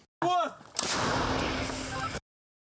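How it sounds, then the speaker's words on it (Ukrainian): A short burst of sound gives way to a heavy M777 towed howitzer blast that booms and rumbles for over a second before stopping abruptly. "британсько-американська причіпна гаубиця М 777 з якою доводиться працювати"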